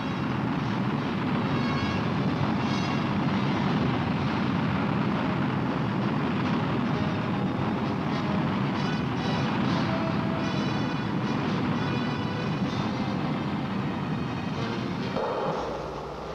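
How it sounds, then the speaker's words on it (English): Pershing missile first-stage solid rocket motor in a captive test firing, a dense continuous roar with rumbling low end holding steady for about fifteen seconds before dropping off abruptly. "Here, Pershing's two rocket motors are about to be tested in a captive firing."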